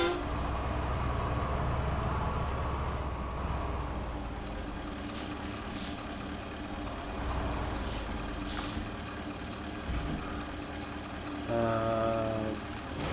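A Mustang 5320 truck in the SnowRunner video game rumbles with a heavy, steady engine idle, broken by air-brake hisses, before a loud, deep horn blast sounds near the end.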